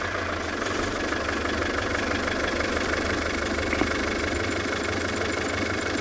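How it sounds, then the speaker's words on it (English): A safari vehicle's engine idles steadily throughout, a continuous mid-to-low rumble heard up close with no voices over it, out on an afternoon game drive in South Africa. "It is said they like the sound of the vehicle."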